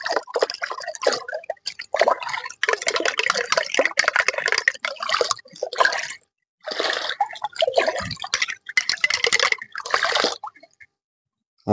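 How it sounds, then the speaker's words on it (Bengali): A mixed fungicide solution for diseased papaya trees is poured into water, giving splashy gushing bursts that stop and restart several times before a final quiet gap. "গুলানো শেষ, আমি এই যে পানিতে ঢালিয়ে দিলাম।"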